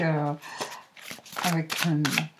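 Oracle cards are shuffled in soft, papery riffling bursts under a person's continuous talking.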